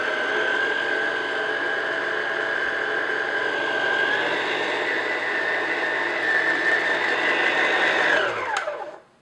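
An electric mixer beats butter and granulated sugar for a pineapple upside-down cake, a loud steady whir that holds for several seconds, shifts pitch slightly midway, then winds down and stops.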